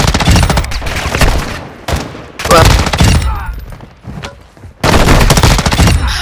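Loud Call of Duty gunfire in repeated bursts: rapid machine-gun volleys separated by short gaps, close and harsh, with reverberant tails between bursts.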